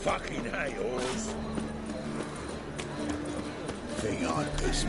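Hooves of a horse in the video game Witcher 3 clip-clop at a quick, steady pace under game music and ambience, moderately faint.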